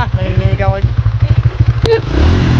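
A green motorcycle engine runs close by with a fast, pulsing putter that swells into a louder, rougher roar at the end, heard under excited voices of people talking.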